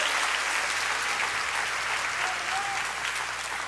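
Church congregation applauding during a sermon, a steady wash of many hands clapping, moderately loud and even, with no voice over it.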